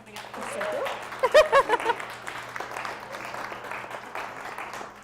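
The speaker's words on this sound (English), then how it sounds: "I'd love to have a round of applause for Krysta Bea" Audience applause for a speaker at the close of a talk on chocolate, a steady moderate patter of many hands with a few louder nearby claps, mixed with talk.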